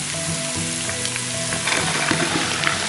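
Three onions sizzling in about two tablespoons of oil in a pan, a steady dense frying hiss with occasional louder crackles and a faint stir, close and continuous with no voices.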